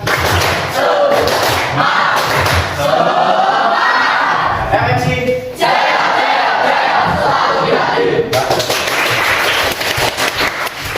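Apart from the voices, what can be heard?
class of students clapping hands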